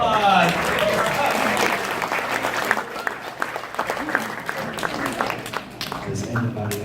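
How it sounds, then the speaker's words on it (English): Applause from a seminar audience at a sales training event, dense clapping strongest at the start and thinning over several seconds, with scattered voices and talk underneath. "Round of applause."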